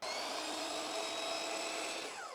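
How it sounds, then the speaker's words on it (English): A power saw tilted to a 45-degree bevel makes its first cut along the edge of a board for a wooden planter, a steady high whining drone held at even loudness throughout with no talk. "So I'm back at 45, and I'm gonna make my first cut on the edge."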